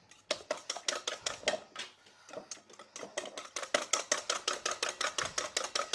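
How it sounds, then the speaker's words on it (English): A whisk beats eggs in a bowl with a fast, regular clatter of rapid metallic taps, close and clear, pausing briefly before resuming at a quicker, steady rhythm. "And really whisk well."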